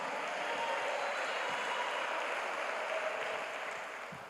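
A church congregation applauds the Lord in a sustained, dense wash of clapping, loud and steady before easing off slightly at the end.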